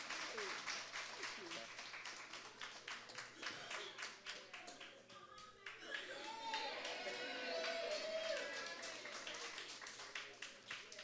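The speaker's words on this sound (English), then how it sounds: "So all this round of applause." A crowd at a winter/spring graduation for a Tech Goes Home program claps steadily and warmly throughout, the fairly faint, even patter mixed with cheers and murmured talk across the room.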